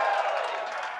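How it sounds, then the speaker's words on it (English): An esports arena crowd cheers and applauds after a decisive League of Legends quarterfinal game, a broad, dense roar that holds steady and fades slightly over a second. "the crowd is definitely excited"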